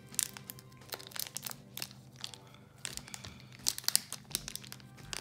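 Crinkly foil wrapper of a Pokémon Neo Discovery booster pack being torn open slowly and carefully, close-up irregular crackles and rips in small bursts, no speech.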